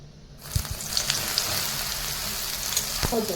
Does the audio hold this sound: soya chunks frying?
yes